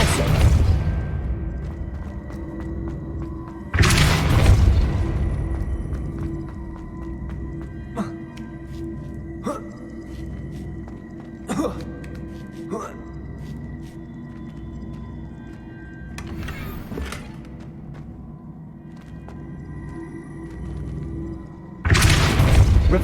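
Depulso force spells cast in Hogwarts Legacy land as deep booming blasts, several sharp bursts spaced through a quiet, rumbling game ambience, with smaller thuds and clatters in between.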